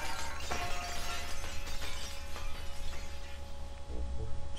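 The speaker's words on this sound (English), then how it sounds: "And shatters like glass." An object shatters like glass in The Legend of Zelda: The Wind Waker, struck by the fully powered Master Sword, a dense crash of breaking shards over game music and a steady tone, no talking.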